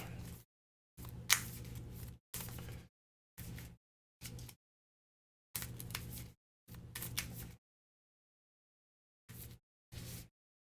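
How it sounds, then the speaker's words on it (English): A deck of Pokemon cards is shuffled in several short bursts of riffling and flicking, quiet and close, separated by pauses of silence. "Alright, deck is shuffled."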